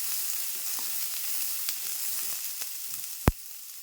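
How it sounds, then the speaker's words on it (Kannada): Chopped onion fries in a small amount of oil with a steady, close sizzle, broken by a few light scrapes and one sharp knock of a utensil against the pan near the end. "ಕಡಿಮೆ ಎಣ್ಣೆ ಹಾಕಿ ಫ್ರೈ ಮಾಡ್ಕೊಳ್ಳೋದು ಉಳ್ಳಾಗಡ್ಡಿ"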